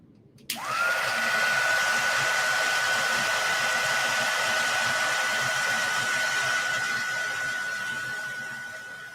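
An embossing heat tool starts up abruptly and keeps blowing, with a steady fan whoosh and a high motor whine that hold for several seconds, close and moderately loud.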